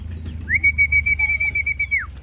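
A single pigeon gives a sustained whistle-like call over a low rumble of wind and handling noise, during a pigeon-racing catch session in Muntinlupa, Manila.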